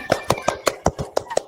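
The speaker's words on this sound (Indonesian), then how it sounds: "beri tepuk tangan kepada Puji" Classroom clapping for a student, about eight evenly spaced claps from a small group of hands in a steady rhythm, close and fairly loud.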